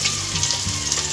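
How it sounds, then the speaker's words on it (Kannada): Chopped onion frying in a pan for green chicken biryani makes a loud, dense sizzle heard up close, steady across a brief moment. "ಹೆಚ್ಚಿಟ್ಕೊಂಡಿರೋ ಉದ್ದುದ ಈರುಳ್ಳಿನ ಅದು ಆ ಘಮ ಘಮ ಆದಮೇಲೆ ಹಾಕಬೇಕು"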